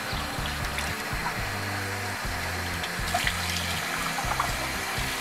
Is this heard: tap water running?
yes